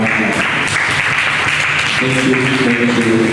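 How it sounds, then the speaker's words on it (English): A symposium audience claps in a loud, sustained round of applause, dense and steady throughout, with a voice speaking over it. "please do very good round of applause"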